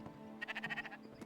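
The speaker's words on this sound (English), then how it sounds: "Big old fluffy sheep." A fluffy sheep in the video game Spiritfarer gives one short, quiet, wavering bleat with a rapid pulsing tremolo, heard alone.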